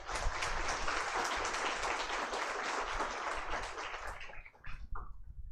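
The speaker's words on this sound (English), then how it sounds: "Let us now begin the event with a huge round of applause" An audience at a college event opens the program with a round of applause, sustained dense clapping that carries for several seconds, then thins into a few scattered claps and fades.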